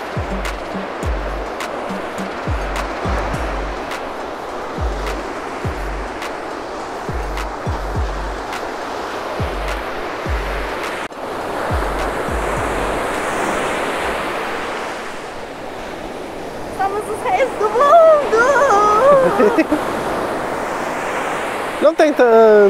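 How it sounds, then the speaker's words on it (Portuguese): Small sea waves wash gently onto a tiny beach in Lagos, Portugal, a steady close surf hiss with wind rumbling on the microphone and a few brief rustles near the end. "Não tem tantas ondas, tem um pouquinho só de ondas aqui"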